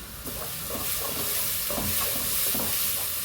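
Kasuri methi frying with steady sizzling and hiss in a pan of palak paneer, Punjabi-style curry, broken by soft stirring scrapes, close and continuous with no talk.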